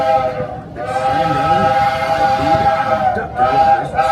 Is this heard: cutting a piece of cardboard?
no